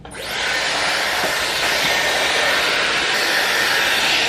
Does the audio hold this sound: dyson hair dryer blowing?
yes